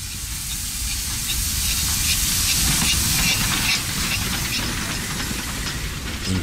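Steam train rolling through South African countryside, a loud continuous hiss and rush of steam over a dense rumbling chug of the wheels, steady and close throughout with no voices.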